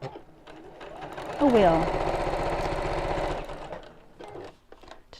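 A sewing machine stitches a cushion cover in a fast steady whirring run of about two seconds, rising after a short start, with someone speaking briefly before and after.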